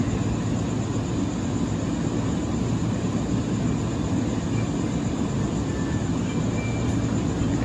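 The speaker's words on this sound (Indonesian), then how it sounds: "ini dia KRL-nya baru saja keluar dari Dipo Depok" A steady, loud rumble of an electric commuter train (KRL) leaving the Depok depot in Indonesia, continuous low mechanical noise with a faint electric whine above it.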